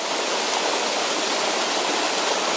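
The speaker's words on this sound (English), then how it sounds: "Comes down a couple of different series of waterfalls." Waterfall cascading down the Hardcore Cascades, a steady broadband roar of falling water that holds even and unbroken throughout, close and loud with no voices.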